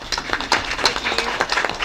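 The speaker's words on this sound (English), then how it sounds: "Clap for Letitia." Small audience at a parish school board meeting clapping for an honoree, with close, sharp, irregular claps from a modest group of people that keep going steadily without building.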